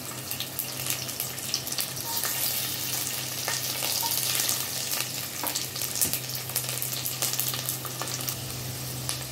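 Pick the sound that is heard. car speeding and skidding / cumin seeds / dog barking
cumin seeds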